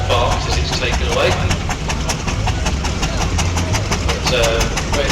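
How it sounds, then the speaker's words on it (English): Steam road engine pulling away under a heavy load at a heavy haulage display, its exhaust barking in a quick, regular rhythm close by and loud, with a deep rumble beneath. "But very impressive sound of a road engine in front light, but you've got a weight on the back."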